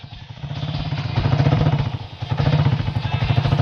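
A motorcycle engine runs steadily close by, a low rumbling idle with throbbing pulses that swell and dip slightly, heard alone without talk.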